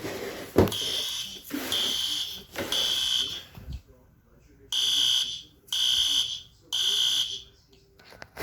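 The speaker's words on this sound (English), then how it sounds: "The fire alarms will be off in 10" A fire alarm sounds during a school fire drill, its piercing electronic beeps coming in repeated bursts separated by short gaps, with voices talking between and over some of the blasts.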